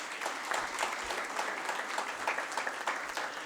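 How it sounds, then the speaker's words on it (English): Audience at an investor summit applauds steadily, a continuous wash of many hands clapping at moderate distance without talk. "please give an astounding round of applause for Vikas Nahar"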